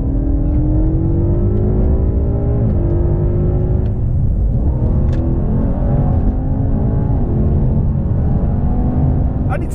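A BMW M5 F90 and a Mercedes E63s AMG run side by side at full throttle in a rolling drag race, a loud, steady engine roar with rising tones and a gearshift dip partway through.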